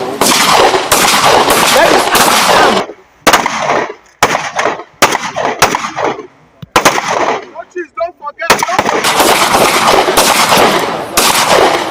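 Loud bursts of gunfire from a military live firing exercise with navy forces, rapid repeated shots in dense volleys with short quiet gaps mid-way, then heavy sustained firing resumes.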